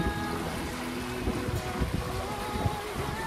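Sailboat running almost dead downwind under mainsail alone in fair weather off southern Italy: steady wind rush and water wash along the hull, constant and close, with no talk.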